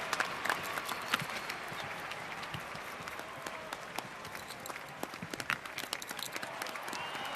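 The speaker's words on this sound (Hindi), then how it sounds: "तो जोरदार तालियों के साथ स्वागत कीजिए भंवर सिंह जी का और उनके ड्रामा कंपनी" Audience at a Ramlila drama performance applauding, a dense, steady patter of many hands clapping at moderate distance, sustained for several seconds without any speech.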